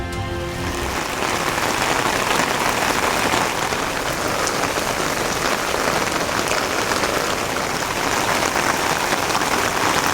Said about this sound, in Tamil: கோவை மற்றும் அதன் சுற்றுவட்டார பகுதிகளில் வெளுத்து வாங்கிய கனமழை.